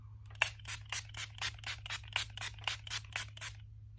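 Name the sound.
spraying e.l.f. Dewy Setting Mist on face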